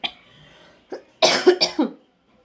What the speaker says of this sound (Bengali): আমার এত কাশি পেয়েছে, আমি তাড়াতাড়ি করে বাইরে চলে এসেছি